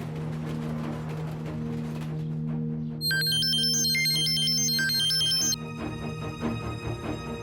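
A phone ringtone plays a bright repeating electronic melody for a few seconds over a low steady hum and room background in a tense drama scene.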